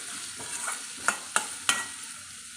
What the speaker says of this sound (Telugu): ఇది మంచిగా ఫ్రై అవ్వాలండి